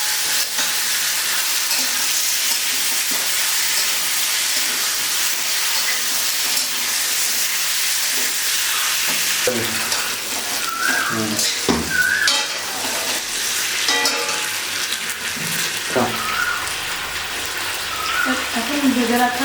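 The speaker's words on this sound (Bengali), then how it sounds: "দিয়ে আমি ভালো করে মাংসটাকে কষিয়ে নেব" Chicken pieces fry and get stirred in a pan for Bengali chicken kosha. A steady, loud sizzle and hiss runs throughout, broken by repeated scraping and clattering as a spoon turns the meat.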